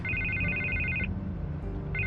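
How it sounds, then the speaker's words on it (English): A telephone rings in the Batman Telltale Series video game, a bright electronic trill repeating in a long burst, pausing, then starting again over a steady low background hum. "I can't get the phone to stop ringing"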